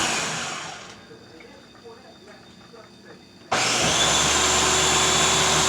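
A kitchen blender purees homemade sauce, first whirring loudly for about a second, falling to a quieter lull, then roaring back at full, steady power until the end.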